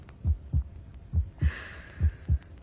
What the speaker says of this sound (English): My own heartbeat.